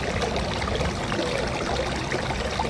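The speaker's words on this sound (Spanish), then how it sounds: "este sonido del agua relaja a uno" Continuous broadband rush of running water, like a small outdoor stream trickling and pouring, steady and close with no talk over it.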